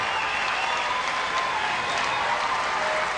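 Baseball fans in the stands give a standing ovation at a Florida State vs UCF college game, a sustained, even roar of clapping and crowd noise throughout.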